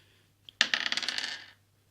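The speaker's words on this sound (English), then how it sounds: "you're going to roll the dice" Dice rattle and tumble across a table for a board game, a sharp initial clack followed by a quick series of bouncing clicks that settle within about a second.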